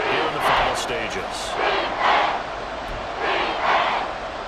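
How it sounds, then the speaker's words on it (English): Stadium crowd noise in an American football video game featuring the Chiefs, a steady roar of cheering that swells in waves near a goal-line play, with no clear speech over it. "This crowd doing all they can."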